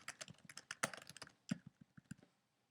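Quick, irregular keystrokes on a computer keyboard while typing into a document, close and crisp, with a few louder taps before the clicking trails off.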